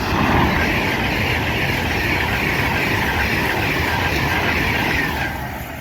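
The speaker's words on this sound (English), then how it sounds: "passing through now is a Pendolino going from London Euston to Liverpool Lime Street" A Pendolino train running from London Euston to Liverpool Lime Street rushes past at Wolverton on the West Coast Main Line, a loud, sustained roar of wheels and carriages that fades slightly at the end.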